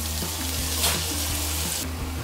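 Blended chili paste and diced chicken sizzle in a frying pan while being stirred, a steady close hiss and crackle with faint scraping of the utensil, no talking.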